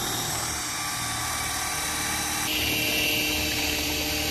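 DeWalt electric drill spinning a paddle propeller on an Intex Seahawk 4 kayak, a steady close high-pitched whine that holds and shifts slightly in tone partway through, alone without speech.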